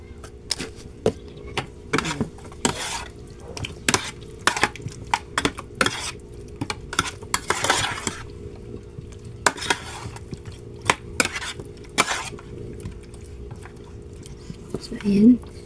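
Food being stirred and mixed in a pot with a little salt added, giving a run of sharp utensil clinks and scrapes in irregular clusters, close by and moderately loud.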